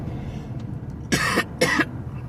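Two harsh coughs come close together from a nearby person, loud breathy bursts over quiet room noise.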